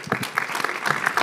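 Brief, dense applause from an audience at a French real estate awards ceremony, many hands clapping at once at moderate volume in a short burst.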